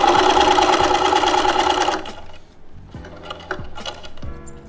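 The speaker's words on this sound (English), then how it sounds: "Sometimes I just sew over my pins." A sewing machine stitches steadily through fabric and over pins while sewing a four-square bag, loud and close for about two seconds, then stops, leaving faint handling clicks and light shuffling.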